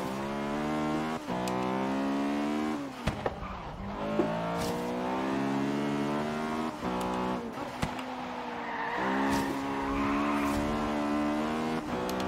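An Acura Integra Type R races in Forza Horizon 3, its engine revving hard through rising and falling gear pulls with tire squeal and skidding in a corner, loud and continuous with no talk.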